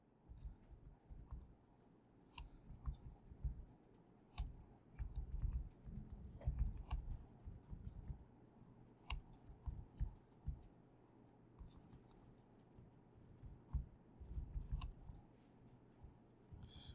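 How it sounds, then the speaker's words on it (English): Someone types on a computer keyboard while working on a PowerPoint project. The keystrokes come as faint, irregular clicks in quick bursts, with occasional sharper taps and no talking. "you should be able to start typing"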